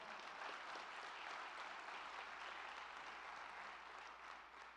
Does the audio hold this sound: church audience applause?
yes